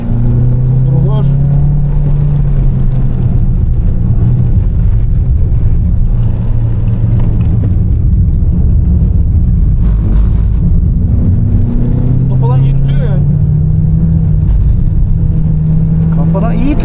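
A Mazda3 driving at night on a dark track at Three Sisters gives a continuous engine drone that rises and falls through gear changes, close and steady, with occasional voices over it.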